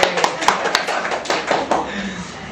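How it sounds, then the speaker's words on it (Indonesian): Scattered hand clapping from an audience at a Heroes' Day talk event, a few distinct claps with a thin, uneven spread of applause and some voices mixed in. "Tepuk tangan."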